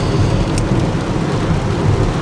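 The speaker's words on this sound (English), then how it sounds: "As you can tell, it's raining." Steady rain pours down outdoors, a dense, loud, even hiss of drops hitting surfaces with no break and no voices.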